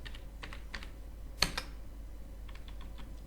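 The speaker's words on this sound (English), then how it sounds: "So here type address." Someone types an address on a computer keyboard in sparse, clicky bursts of keystrokes, one sharper tap standing out in the middle, quiet and close with a low background hum.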